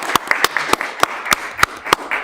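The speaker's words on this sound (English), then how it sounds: "So I want you guys to give yourselves a round of applause." Scattered hand claps ring out at a fairly regular pace, a small group applauding briefly and close by at a city council meeting.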